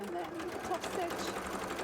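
A sewing machine top-stitches a folded fabric seam on a costume tail, humming steadily and close for a brief stretch, with a voice talking over it.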